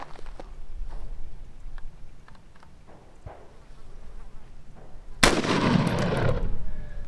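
Gunfire aimed at a Pinty 2.5-10x40 rifle scope: a sharp loud shot bursts in after several seconds of quiet outdoor ambience, followed by a sustained noisy wash and ringing echo.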